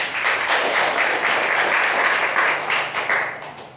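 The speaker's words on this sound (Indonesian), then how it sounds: "Boleh tepuk tangan untuk Tuhan Yesus." A church congregation claps together in sustained, lively applause for a few seconds, fairly close and full, with no speech over it.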